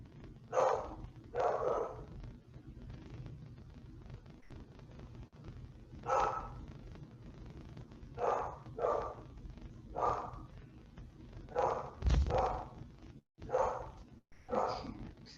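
Dogs bark in short bursts, several separate barks and doubled yaps spread across the stretch, moderately distant over a low steady background hum, with no talking.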